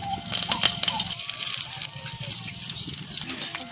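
Chickpea greens hit hot oil with garlic in a pan over a wood-fired clay stove, bursting into a loud sizzle and crackle. The hiss settles into a steady fry, and a voice speaks nearby.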